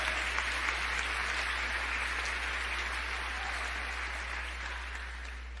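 A church congregation applauding during a Sunday service, sustained steady clapping from many hands throughout, loud and full, slowly tapering slightly toward the end with a low hum underneath.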